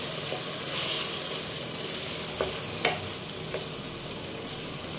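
Chicken and potato pieces being stirred together in a cooking pan, with a steady frying sizzle and a few soft scrapes of the spoon against the pan, close and fairly quiet, no talking.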